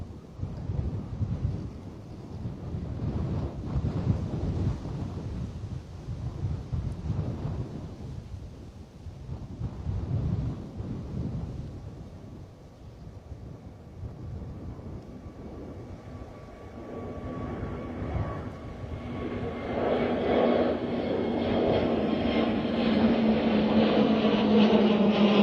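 An Airbus Neo airliner takes off and climbs steeply at Bristol Airport, a loud roaring engine rumble with wind buffeting the microphone, the jet's tone rising and becoming more tonal as it pulls away.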